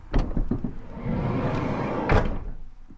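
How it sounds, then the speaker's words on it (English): The side panel door of a Ford Transit Custom van slides open: a sharp latch clunk, a rolling scrape along its track, then a solid thud as it stops, all close and fairly loud. "You can even slide open the side panel door."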